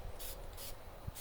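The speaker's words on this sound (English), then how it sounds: "I'm just spraying around these legs with an extra coat of Rust-Oleum rust preventative paint" Rust-Oleum rust preventative spray paint hisses onto the legs of a wood stove in short, steady bursts, faint and close, with no talk.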